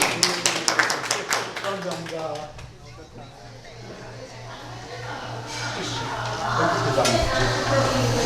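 Applause from a lecture audience in a Korean history study session, opening with sharp, loose claps that fade into a steady murmur of talk and shuffling, with a low hum underneath.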